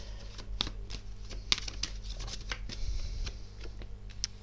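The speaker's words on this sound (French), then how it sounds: "je remets souvent les cartes parce qu'elles sont pas droites." Tarot cards being straightened and shuffled by hand, soft irregular papery flicks and taps at close range over a low steady background hum.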